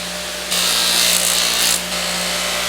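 A Harbor Freight stationary buffer polishes a piece against its wheel. Over the machine's steady motor hum, a harsh, close rubbing hiss swells for about a second and a half and then stops.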